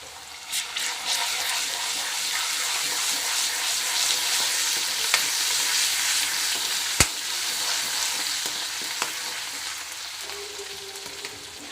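Cabbage curry sizzles steadily in a pan after ginger-garlic paste goes in, a dense continuous frying hiss with a few sharp clicks of a utensil against the pan, no voices.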